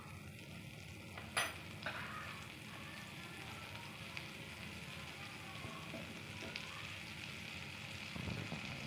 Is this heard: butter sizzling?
yes